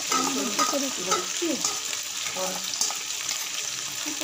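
Spice paste sautéing in hot oil for a chicken curry, a steady close sizzle with stirring scrapes throughout, while a voice talks faintly over it.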